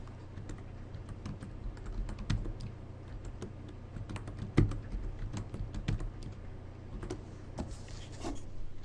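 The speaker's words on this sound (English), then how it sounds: "So you type that in" Keys clatter in an irregular run of crisp taps on a computer keyboard, steady typing at moderate distance over a low background hum, with no voices.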